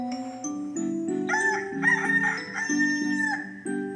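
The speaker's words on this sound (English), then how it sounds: "His crow is loud and bold and proud. He wakes the farm at dawn." A loud rooster crows clearly and close by, a long drawn-out cock-a-doodle-doo with nothing else in the background.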